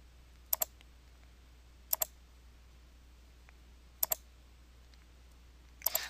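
Computer mouse clicks come in crisp double pairs as boxes are ticked in an Excel 2010 dialog, four evenly spaced sets close to the mic over quiet room hum.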